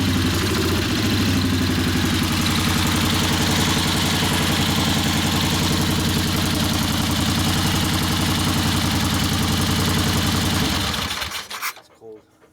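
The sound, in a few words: 1964 Harley XL 900 Ironhead Sportster engine running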